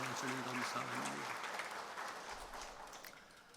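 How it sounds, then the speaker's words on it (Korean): A church congregation claps together in praise during a Sunday worship service, a dense, steady wash of applause that starts over a brief sustained tone and gradually eases off. "우리 찬양 받으신 주님께 영광의 박수"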